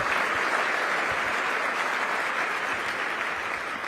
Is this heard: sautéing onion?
no